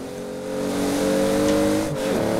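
In Forza Horizon 4, a Toyota Supra racing on a road gives a steady, droning engine note that swells slightly, then shifts pitch as the car changes gear near the end. No one speaks.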